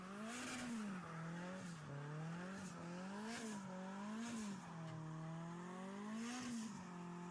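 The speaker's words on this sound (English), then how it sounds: "I'll even give you the ultimate MX-5 sound compilation" A Mazda MX-5 Miata, a 1.6 Spec Miata race car, revs continuously with its engine pitch rising and falling through repeated gear changes, a buzzy, strained four-cylinder drone heard alone and up close.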